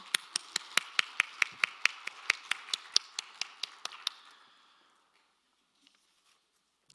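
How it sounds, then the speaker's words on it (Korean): A church congregation at a Wednesday night service in Hwagok-dong claps in steady unison, about twenty crisp, evenly spaced claps over four seconds that soften and stop, followed by near silence. "하나님께 영광의 박수 올려드리겠습니다"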